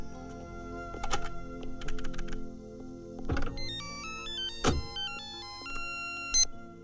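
A telephone ringtone plays in a Hindi film scene as a man phones a friend, a bright repeating electronic melody with sharp tonal bursts, loud and close, with no talking over it.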